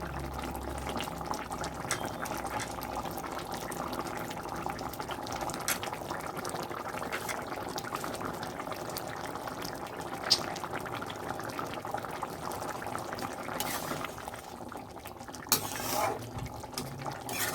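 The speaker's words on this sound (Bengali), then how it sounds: "নেড়ে দিচ্ছি এগুলো ফুটে উঠেছে" A pot of fish and potato curry made with sarpunti fish bubbles softly at a low simmer, a faint continuous gurgle with occasional stirring clinks and light background noise.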